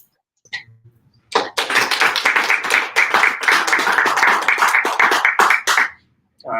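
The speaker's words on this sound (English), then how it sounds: "let us give him a round of applause" Audience applause at a tech talk on microservices, containerization and orchestration: a sudden burst of many hands clapping that holds steady for about five seconds, then cuts off, with a brief murmur and a faint voice just before it.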